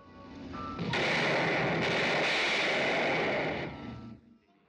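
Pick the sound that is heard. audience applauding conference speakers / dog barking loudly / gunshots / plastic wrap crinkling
gunshots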